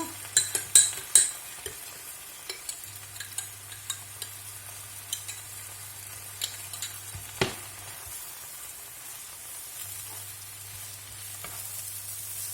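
Spinach cooking in a pan sizzles quietly, with a cluster of clicking stirs at the start and a few scattered scrapes later, over a low steady hum.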